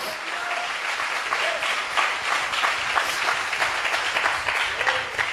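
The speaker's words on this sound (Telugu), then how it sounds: "చప్పట్లు కొట్టి దేవుని మహిమపరుస్తారా?" A church congregation applauds together, a sustained, even wash of many hands clapping that carries steadily throughout without pause.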